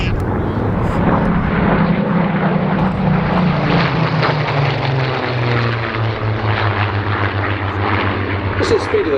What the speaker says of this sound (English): it looks like the Griffin aircraft are now peeling out to the south